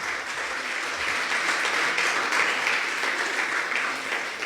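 A church congregation at a Spanish-language Sunday service claps steadily, a dense and even applause of many hands that stays close and continuous throughout.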